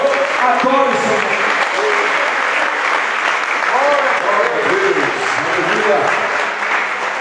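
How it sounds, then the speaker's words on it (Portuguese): A church congregation claps during worship, a continuous loud patter of many hands running throughout, while a preacher's voice speaks over it. "Dê palmas ao Senhor, glorifique ao Senhor, adore o Senhor."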